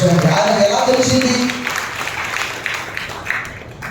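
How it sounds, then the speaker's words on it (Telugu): A church congregation claps loudly in praise of the Lord, a broad burst of applause that follows a short stretch of a voice and carries on to the end. "బిగ్గరగా చప్పట్లు కొట్టి ప్రభువుని మహిమపరచండి"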